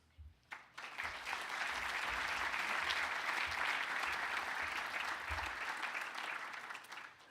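An audience at a Purdue Crew 75th anniversary celebration and Hall of Fame awards gives a sustained round of applause, dense and even for several seconds before tapering off.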